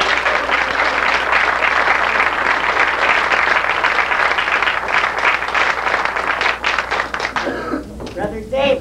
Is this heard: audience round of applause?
yes